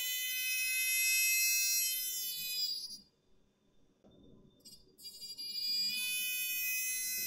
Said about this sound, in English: So all you need is a proximity sensor to make a car reversing alarm.